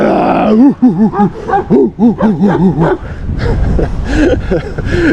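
Several dogs bark at a cyclist on a long countryside bike tour, a close run of repeated loud barks in the first three seconds, followed by rushing wind and road noise.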